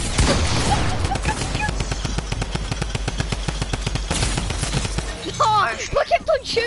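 Rapid automatic gunfire in a Fortnite 1v1 match, a dense, loud stream of shots lasting several seconds before breaking into scattered single bursts and game effects near the end.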